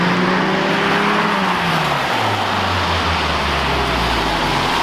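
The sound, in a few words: Hyundai Genesis car revving with new exhaust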